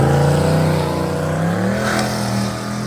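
A single-turbo 302 small block Ford car under full throttle, a loud, close engine roar whose tone rises and shifts as it accelerates, steady and unbroken, then easing slightly near the end, with no voices.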